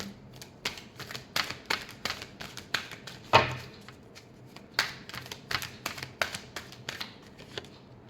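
Tarot cards being shuffled by hand, a run of crisp riffling flicks and taps at an uneven rhythm, close and fairly quiet, with no talking.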